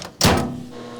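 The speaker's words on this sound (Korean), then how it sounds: "먼저 우유와 요구르트 농축액을 잘 섞어준 뒤 전자레인지에 3분 동안 돌린다" A microwave oven heats a mixture of milk and yogurt concentrate. A brief door-like thunk is followed by a steady low hum that carries on quietly to the end.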